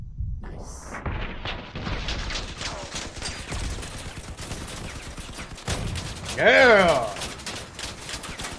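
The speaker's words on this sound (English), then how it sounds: "Just shooting away. Shoot at anything." Rapid weapon fire and explosive blasts from vehicle combat in the Crossout video game, dense repeated bursts with a louder boom near the end, under a brief spoken reply.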